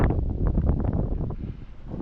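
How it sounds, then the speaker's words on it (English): Strong wind buffets the microphone outdoors on a chilly, very windy day during a walk in Lewiston, Maine, a steady broadband rush with gusty swells and no talking. "it is officially chilly and it is also very windy"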